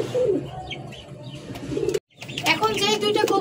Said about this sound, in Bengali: এখন যে দুইটা কবুতর দেখাচ্ছি রেসার কবুতর, দুইটাই নর